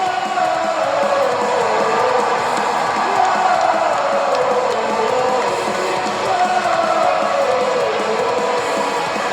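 A large WrestleMania 41 arena crowd roars steadily during a women's tag match featuring Becky Lynch, a dense wall of cheering and chanting that never lets up, loud and close throughout.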